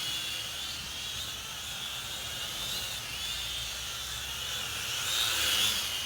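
A Propel Maximum X11 quadcopter drone flies at night, its propellers producing a steady, fairly faint high-pitched whine and buzz that swells slightly near the end, with no talk.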